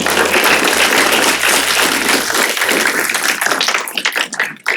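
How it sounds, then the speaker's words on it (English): A full room gives a guest speaker at a trends talk a round of applause, thick and loud at first, then thinning into scattered claps as it fades toward the end. "Let's give him a good round of applause"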